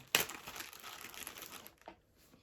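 A plastic zip bag holding bath sponges crinkles and rustles as it is handled up close, a sharp crackle at the start followed by a second of softer scrunching before it trails off to near quiet.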